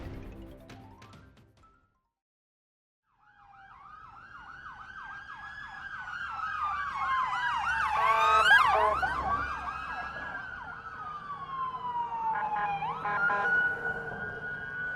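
Ambulance sirens blare continuously through Mandalay after an earthquake, several wailing and yelping tones overlapping and swelling louder, with traffic rumble beneath and a brief quiet gap near the start.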